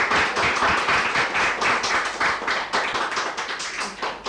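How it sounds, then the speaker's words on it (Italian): Relatives at a 50th wedding anniversary party applaud together in dense, continuous clapping, close and lively across the whole stretch, with no speech over it. "Con un bellissimo applauso da parte di tutti i parenti"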